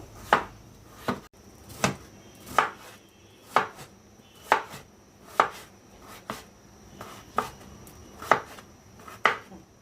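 Papaya is chopped into small pieces with a knife on a board, about a dozen sharp, evenly spaced thuds in a steady rhythm, close and clear with no voices.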